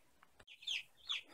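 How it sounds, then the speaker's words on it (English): A chicken that has fallen to the floor clucks twice, with short, fairly close squawky calls in a quiet garage-like space. "Chicken hit the floor."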